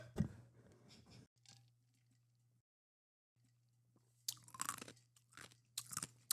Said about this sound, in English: I crunched that ice hard